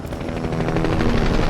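A helicopter flies out of a canyon in the video game Fortnite, its steady, loud rotor and engine roar filling the whole stretch with a fast, throbbing chop and no talk over it.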